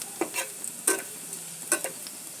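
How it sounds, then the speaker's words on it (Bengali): Onions fry gently in a pan, a soft background sizzle with a few distinct scraping stirs of a spoon against the pan, quiet and close. "পেঁয়াজটা আমি কড়া করে ভাজবো না"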